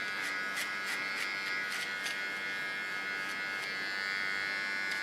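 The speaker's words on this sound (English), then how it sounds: "with my small clipper." A small hair clipper buzzes steadily as it trims the nape and contour line of a short haircut, a close, even electric whine with faint intermittent clicks, no talking.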